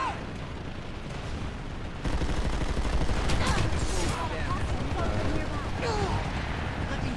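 Gunfire crackles in a video game firefight, a dense stream of rapid shots and bursts that grows louder after a couple of seconds and stays loud and continuous to the end.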